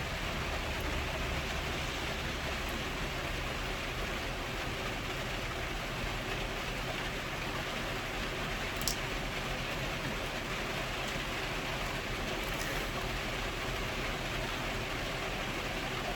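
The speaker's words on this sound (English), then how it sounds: "Yeah, it's starting to rain harder, that's for sure." Steady, heavy rain falling outdoors among cut flowers, a dense continuous hiss that stays even and fairly loud for the whole stretch, with no talk over it.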